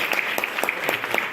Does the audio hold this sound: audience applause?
yes